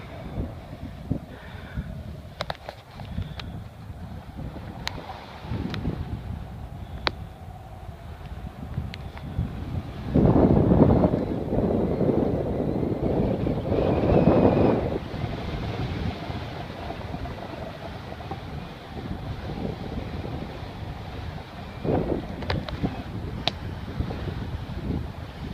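Wind blows across a hill near Weston, rumbling into the microphone as a steady low buffeting that swells into a stronger gust midway before easing again. No one talks.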